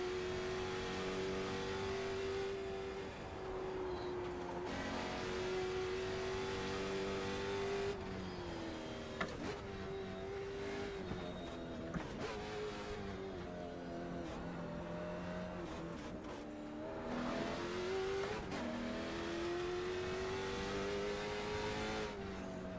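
A race car at full throttle in LMS and TCR racing, its engine droning and rising through gear changes over about twenty seconds, steady and close without any talking.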